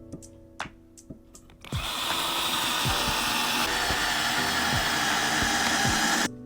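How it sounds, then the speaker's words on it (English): Power drill boring a hole through a wooden rug tufting frame, a few light handling knocks, then a loud steady whine for about four and a half seconds that stops abruptly, with no talk. "And just drill the hole."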